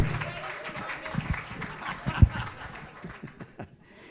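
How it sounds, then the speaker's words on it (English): An open-mic crowd claps for the Pooks Hill Players in scattered, moderately faint applause mixed with chuckles and some talk, with a few sharper claps near the middle before it fades out. "Give them a big round of applause."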